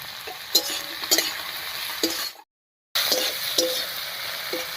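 Tomatoes fry in a pan with a steady, soft sizzle, punctuated by a few clinks and scrapes of stirring, briefly cut by a silent gap before the sizzling carries on.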